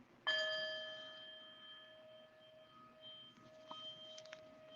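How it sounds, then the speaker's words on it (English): A single bell rings once to open a morning yoga relaxation: a clear struck tone with bright overtones that rings out and slowly fades over several seconds, quiet and alone. "I'm going to sound the bell just to align the energy into relaxation."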